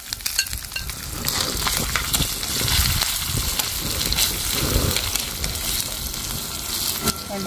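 Onion, ginger and green chilli fry in a pan for a quick curry, giving a steady, close sizzle with scraping stirs throughout, with no talk over it.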